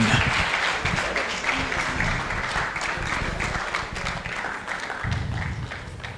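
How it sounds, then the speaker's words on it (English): An audience applauds at an Africa insurance sales conference, a dense, steady wash of clapping that holds for the whole stretch without a break, with no voices standing out above it. "Please, a round of applause for the big man."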